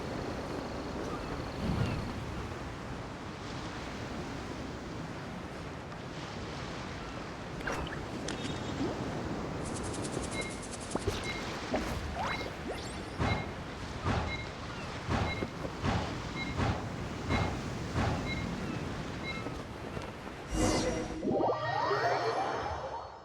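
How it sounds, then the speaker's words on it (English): Whooshing wind current in the Genshin Impact video game, a long airy rushing sound that runs throughout. Rhythmic soft thumps and a few brighter chimes sit in the mix, ending with a sharp swoosh. "A wind current? The winds have come at an opportune moment."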